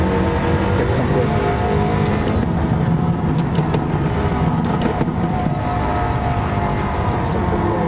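A 2017 Nissan GT-R Nismo lapping a track, its engine droning loud and steady from inside the cabin with constant road and wind roar and a few faint clicks.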